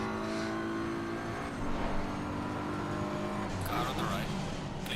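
A Maserati race car engine in Assetto Corsa Competizione at Imola drones steadily with shifting tones as it revs, loud and continuous throughout.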